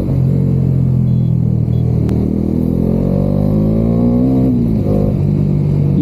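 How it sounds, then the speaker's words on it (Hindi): A Bajaj Dominar 400 motorcycle engine runs warm and steady, a loud continuous rumble that rises in pitch as it revs up and eases back, close and alone with no talk. "जब ये एकदम गर्म हो जाता है, इसका इंजन एकदम रिफाइंड हो जाता है, तो इसकी आवाज़ मुझको थोड़ी ट्रायम्फ फीलिंग देती है।"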